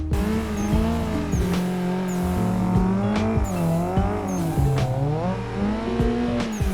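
A drifting car with its engine droning and revving in steady waves while the tires squeal in repeated sharp bursts, loud and continuous throughout, with no talking.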